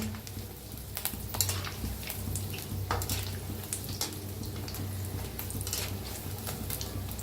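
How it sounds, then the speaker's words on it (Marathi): Gram flour bhaji fritters frying in oil, a steady close sizzle with scattered bubbling pops and occasional clinks, continuous throughout with no talking. "तर आता छान असं तळूया आणि बघू शकताय काय मस्त झाले आहेत भजी आपले"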